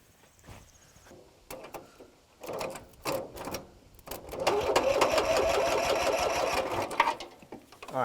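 Starter cranking the engine of an abandoned M274A2 military mule, a rapid mechanical chatter that builds into a steady loud churning run for several seconds before cutting off, with scattered clicks beforehand.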